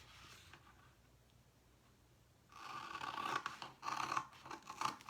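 Transfer scissors cut through a transfer sheet at close range, quiet at first and then a run of crisp snipping and scraping strokes in uneven bursts, with no talk.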